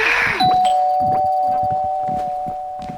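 A doorbell rings once loudly in the video game Content Warning, and its bright electronic tone hangs on and slowly fades while people talk and laugh over it.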